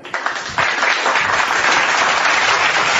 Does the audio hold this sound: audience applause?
yes